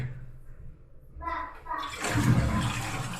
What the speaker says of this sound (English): Flush to empty most of the tank.